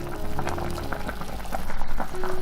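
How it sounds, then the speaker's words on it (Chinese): Durian chicken soup with goji berries bubbling in a pot, a steady close simmer with soft popping and gurgling throughout, no voices. "汤煲的差不多了，加入枸杞，再煲5分钟"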